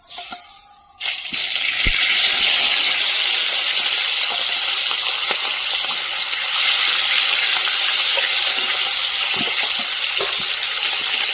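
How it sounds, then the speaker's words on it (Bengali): Catla fish pieces drop into hot oil in a home Bengali kitchen, setting off a loud, steady hiss and sizzle that holds for about ten seconds after a brief quiet start. "এদিকে খুব ভালো করে কিন্তু তেল গরম হয়ে গেছে, মাছের পিসগুলো এখন আমি দিয়ে দেবো।"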